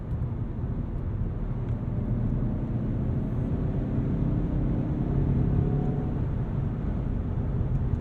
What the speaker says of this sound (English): to propel the Mazda 3 Turbo forward post-haste. It feels stable at speed as well.